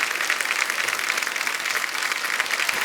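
A studio audience at a comedy talk show gives loud, energetic, continuous applause to welcome guests John Abraham, Divya Khosla Kumar and Milap Zaveri, with dense, close clapping and no talk.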